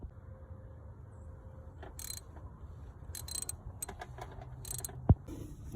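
A 12mm wrench ratchets while loosening the starter bolts on a 2003 Lexus ES300, with scattered clicks and metallic ticks, a short sharp clank near the end, all close up over a quiet garage background.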